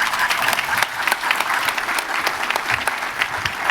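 An audience at a hall of fame inductee brunch applauds steadily, with dense continuous clapping from a large crowd in a room. The clapping is loud and sustained, and the cheering is not clearly audible.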